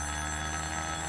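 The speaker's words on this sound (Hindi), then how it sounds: "ओफो, मेरे पति का फोन है।" A telephone rings with a steady electronic tone in a brief, faint burst.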